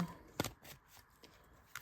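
A deck of tarot cards is shuffled briefly by hand in a few soft, quick riffling and sliding bursts, faint and close, with quiet gaps between them.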